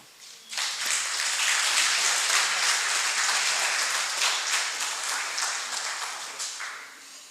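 Crowd at a reading clinic opening ceremony breaking into applause for Dr. Babb, a sudden loud wave of clapping that holds steady and then gradually tapers off.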